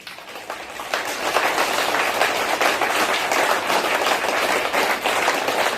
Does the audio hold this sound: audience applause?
yes